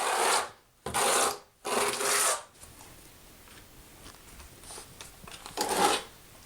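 A 1/4 by 3/8 inch notched trowel spreads tile mortar on a floor during a tile installation: three loud, close scraping strokes in a row, then quieter faint scraping and one more stroke near the end.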